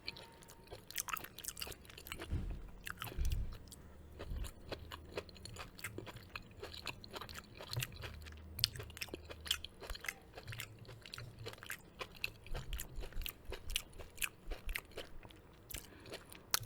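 Corn on the cob being bitten and chewed very close to the microphone: repeated sharp crunchy bites and moist chewing clicks in an irregular rhythm, with no talking.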